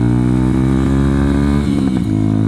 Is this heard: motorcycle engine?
yes